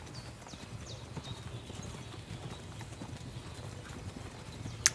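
Rapid clip-clopping of horse hooves in the video game Kingdom Come: Deliverance II, steady and continuous at a moderate distance, ending with a sharp click.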